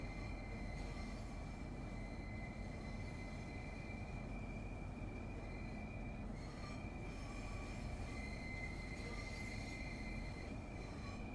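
A Southeastern high-speed train in Train Sim World 6 glides into London St Pancras, with a steady rail roar, sustained wheel squeal tones and a brief shift partway through, heard alone at low level.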